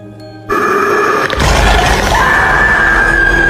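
In a 2023 Indonesian horror film, a woman's sustained scream erupts abruptly after a brief quiet moment, loud and harsh over a dense, rumbling dramatic score that continues to the end.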